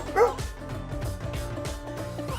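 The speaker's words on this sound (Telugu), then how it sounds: "టెర్రస్ పైన ఓనర్ కుక్కలు కట్టేశాడు." Several dogs tied up on a rooftop terrace give short yips and whimpering barks, close and fairly quiet, in a quick irregular series.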